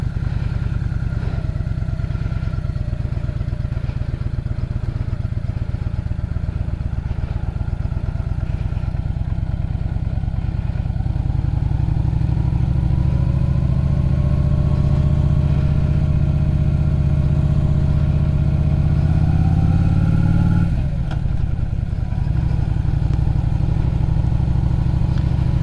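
A cruiser motorcycle is ridden on the road, its engine droning loud and steady, building as it accelerates, with a brief dip like a gear change near the end, no voices.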